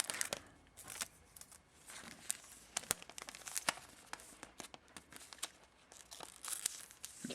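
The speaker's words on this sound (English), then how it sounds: "I've got a little plastic sleeve. There's a little sticker thing on the back to seal it." A small plastic sleeve crinkles and crackles close up, with quick irregular rustles and snaps as it is handled and sealed shut with a sticker, quiet and without talk.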